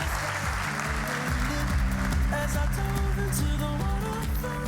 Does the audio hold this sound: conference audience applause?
yes